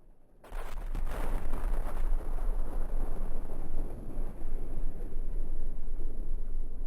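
Tank shell striking the ground in World of Tanks with an E-100 heavy tank, a sudden loud blast after a brief quiet start, followed by a sustained rumbling, crackling roar that stays dense and steady to the end.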